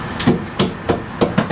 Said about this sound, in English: I like it when you gotta hammer them because then it holds it for you.